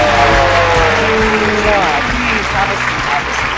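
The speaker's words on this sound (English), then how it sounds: "Let's give a big round of applause as we welcome our special guest for today" Studio audience applauding to welcome a special guest onto a show, a loud, continuous wall of clapping with a voice and tonal sounds running underneath throughout.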